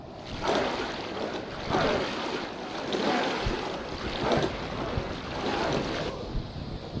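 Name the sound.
waves and a boat sailing, from the video game Expeditions: Viking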